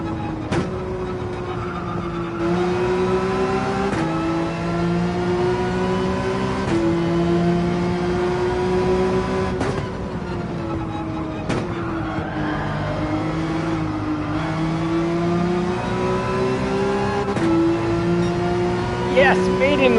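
A race car engine in Gran Turismo 7 at Willow Springs revs and pulls hard through the gears, with sustained rising pitch and brief shift drops over twenty seconds while a voice talks over it.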